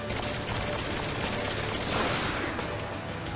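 An alien weapon fires in Saints Row IV as a dense, continuous crackling barrage at steady loudness throughout, with a brighter burst around the middle. No voices are heard.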